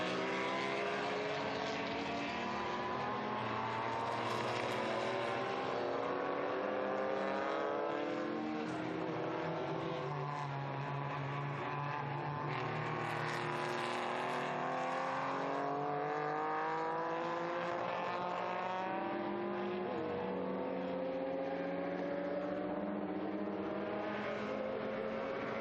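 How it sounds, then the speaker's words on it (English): Historic race cars, including a Porsche and a small sports racer, roar around the Estoril circuit, engines revving and shifting continuously at a steady distance with rising and falling pitch, without voices. "Coming off the corner there, you'd have thought that the Porsche might be able to get past the little sports racer"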